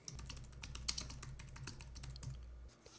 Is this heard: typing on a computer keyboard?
yes